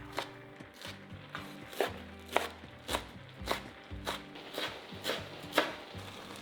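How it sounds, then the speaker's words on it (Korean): Knife chopping shiitake mushrooms, green onion and chives on a cutting board, a steady run of about a dozen sharp close taps at a regular rhythm, with no talking. "기다리는 동안 표고버섯 3개 정도 썰어줄 거예요."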